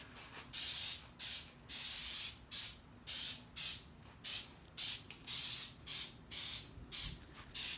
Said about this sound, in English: this can does spray very directly. It doesn't fan way out, and that's impressive.